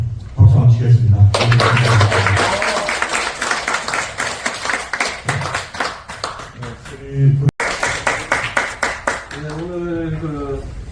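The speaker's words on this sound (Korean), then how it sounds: "저희들끼리 박수 한번 치겠습니다" A crowd at a memorial service for the 11th anniversary of the Sewol ferry disaster claps in a sustained burst of applause, heard alongside talking, with a voice speaking more clearly as the clapping ends.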